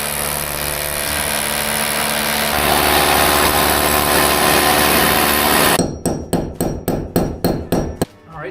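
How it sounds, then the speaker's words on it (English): A power drill whirs loudly and steadily for several seconds while drilling holes in a wall, then breaks into a run of rapid, evenly spaced bursts before stopping. "So I'm going to drill 2 holes and fit these onto the wall."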